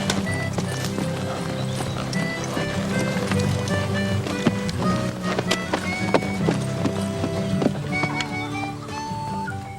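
A horse's hooves clip-clop at a slow pace under a rider in an irregular stream of sharp knocks, close by, over a dense murmur of background noise, with scattered clicks and thuds.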